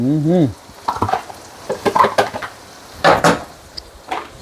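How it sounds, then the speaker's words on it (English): Onions and red peppers for Southern fried corn are stirred around a frying pan, with a series of close scraping and knocking strokes over a light sizzle, opening with a brief high tonal squeak. "Take that pan, stir it around, get everything incorporated"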